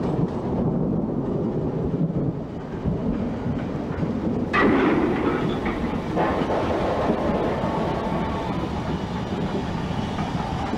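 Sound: Black Five steam locomotive running on the railway

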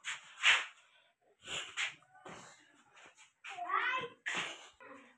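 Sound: cat meowing

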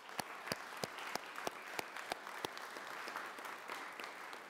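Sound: applause at school committee meeting

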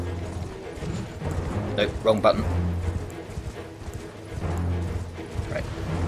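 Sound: horse hooves clip-clopping, from a video game

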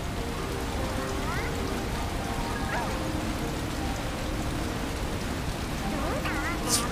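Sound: rain in the video game Sonic Frontiers

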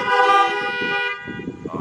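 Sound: car horns honking twice

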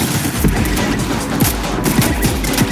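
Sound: gunfire in Fortnite video game

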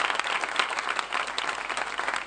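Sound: applause from everyone on the pilgrimage

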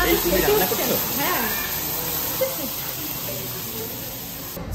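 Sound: sauce poured onto a hot sizzling steak

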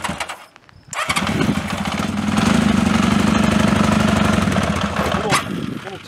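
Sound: vintage motorcycle engine being started on full choke

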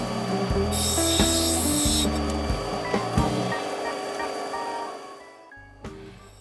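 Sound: grinding an opal on a 100 grit wheel

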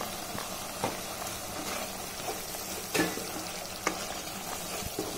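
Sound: masala frying in oil in a pan

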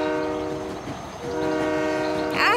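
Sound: circus train locomotive horn, cartoon

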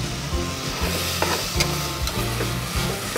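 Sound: capsicum frying with garlic for pulao

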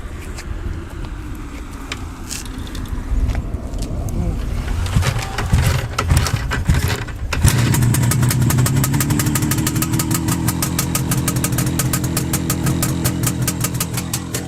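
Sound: motorcycle engine starting

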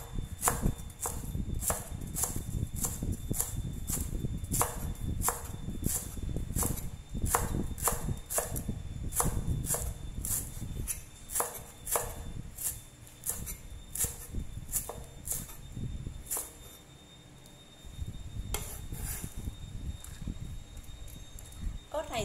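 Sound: knife chopping lemongrass on a cutting board

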